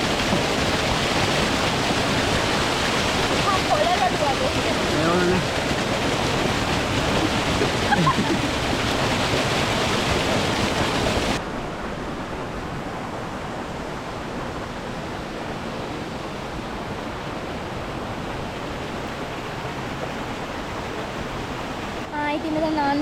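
Lankagama waterfall at the edge of the Sinharaja rainforest pours with a steady, dense roar throughout, loud and close at first, then softer and more even after a sudden drop midway.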